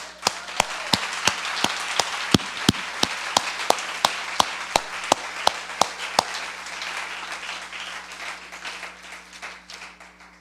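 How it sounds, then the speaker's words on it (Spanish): Church congregation clapping in rhythm during a sermon, steady sharp claps about twice per second over a bed of scattered applause, fading toward the end. "Démosle un aplauso al Señor."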